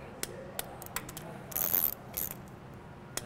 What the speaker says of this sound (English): We'll torque the ones across the top